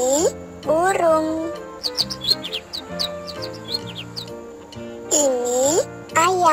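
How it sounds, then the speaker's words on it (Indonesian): Bird chirping in a children's animal sound lesson, with short bright tweets repeating against background music that includes a sweeping melodic line. "Ini burung."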